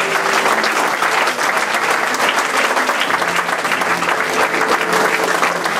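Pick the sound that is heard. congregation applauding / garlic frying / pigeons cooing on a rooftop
congregation applauding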